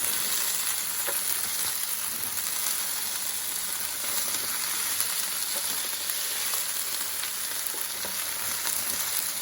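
Potatoes and chorizo fry in a pan while being lifted and turned, giving a steady, close sizzle with light scraping and stirring throughout and no talk.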